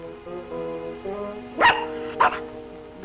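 A dog gives two short, sharp barks, close by, over a steady low background hum.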